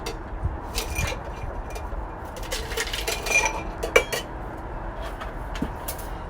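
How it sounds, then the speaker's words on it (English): Ice and a spoon clinking inside a glass while a cocktail with tobacco bitters is stirred, giving irregular light chinks and clatters with one sharper knock, close by and fairly quiet, no talking. "we're going to go ahead and stir that with a little bit of ice"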